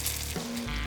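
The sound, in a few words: quail stir fry with onions, peppers, potatoes sizzling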